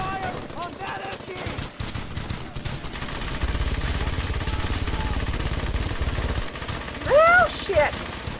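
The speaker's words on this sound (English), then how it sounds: "I want heavy fire on that MG!" Rapid bursts of machine gun fire rattle through a battlefield video game, with sustained heavy firing in the middle stretch, explosive cracks and a brief rising whine near the end, while a voice talks over it.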